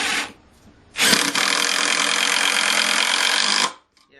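Porter Cable 20V brushless cordless impact driver (PCC647) spinning at high speed, a loud steady whine and rattle running for about two and a half seconds, with brief motor bursts before and after.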